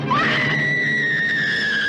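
A single long, high scream rises sharply and then holds steady and loud for nearly two seconds, coming from a 1950s werewolf film, I Was a Teenage Werewolf.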